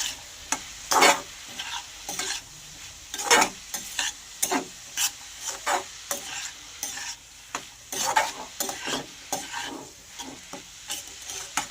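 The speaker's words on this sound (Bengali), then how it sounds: "নুন আর হলুদটাকে আমি ভালো করে মিশিয়ে নেব" Salt and turmeric are stirred together with a spoon in a kitchen, giving a steady run of close, rhythmic scraping strokes that repeat every second or so with no voices.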